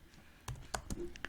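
Typing code on a computer keyboard while writing a PHP Telegram bot: a short, quiet run of separate key clicks in an uneven rhythm, heard close up.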